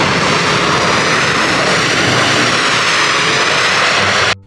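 Cargo airplane engine roaring loud and steady at close range, a dense continuous drone that cuts off abruptly just before the end.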